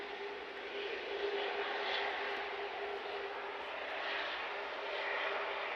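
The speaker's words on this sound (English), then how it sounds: "And an absolutely amazing aircraft." An aircraft at Manchester Airport drones steadily at a distance, a sustained engine roar holding a constant hum for several seconds, moderately faint and unbroken by voices.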